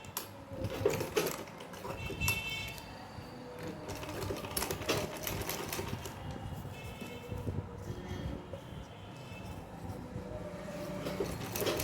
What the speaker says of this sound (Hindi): कच्ची सिलाई एक लगानी है इस पर।